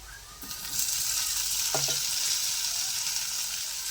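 Onions frying in hot oil in a pan for a village-style bitter gourd curry, a close, steady sizzle with a brief stirring clink partway through.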